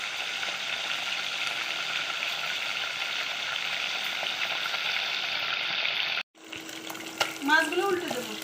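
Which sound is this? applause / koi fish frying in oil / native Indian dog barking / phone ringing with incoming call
koi fish frying in oil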